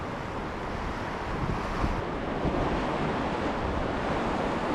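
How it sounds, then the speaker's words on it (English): Ocean waves roll against coastal rocks on the California coast at low tide, a dense continuous roar mixed with wind buffeting the microphone. "you always want to be watching the incoming waves"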